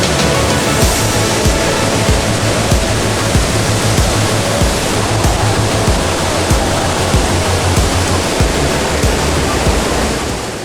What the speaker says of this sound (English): You can feel the thunder of the water flowing over the Niagara Gorge